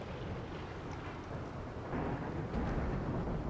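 A steady wash of rain with low rumbling thunder in RimWorld, dense and continuous, swelling slightly louder toward the end with no voices.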